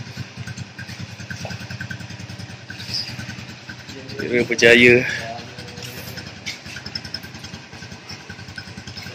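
A restored Yamaha LC135 motorcycle engine runs steadily at idle with a brief rise midway, while people talk over it close by.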